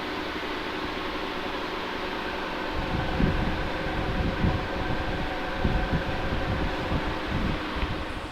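Inside a 3rd AC coach of the 12195 Agra Fort–Ajmer intercity express departing Agra Fort station, a steady air-conditioning hiss and hum fill the cabin while a low rumbling clatter of the wheels swells as the train gets moving.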